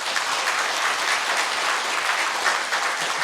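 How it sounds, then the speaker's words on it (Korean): Congregation applause at a church ordination and dedication ceremony for a 90th anniversary, loud steady clapping throughout, dense and even with no talk. "자, 인사하실 때 영광의 박수 하나님 앞에 올려드리겠습니다."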